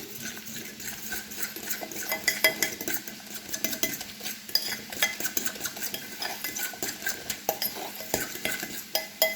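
A beef meatball mixture with oat flakes being beaten in a bowl, a dense run of quick, clattering utensil strokes against the dish, close and unbroken, with no talking.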